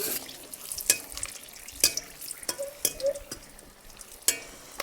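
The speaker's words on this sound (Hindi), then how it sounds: "हमारी ये मिर्च बढ़िया से फ्राई हो गई।" Green chillies fry in hot oil for tempering, with a soft sizzle broken by sharp, irregular clinks and scrapes from stirring in the pan.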